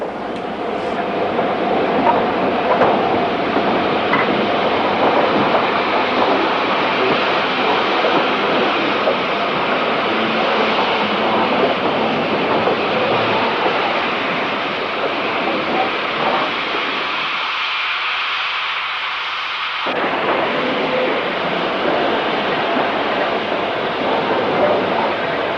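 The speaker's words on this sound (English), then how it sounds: "48253 comes off the freight here to shunt." Freight locomotive 48253 uncoupling from its freight train to shunt, a continuous, fairly loud rail rumble with clanking, near the tracks, its low end briefly dropping away near the end.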